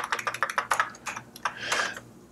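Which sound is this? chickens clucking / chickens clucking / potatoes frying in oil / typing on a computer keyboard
typing on a computer keyboard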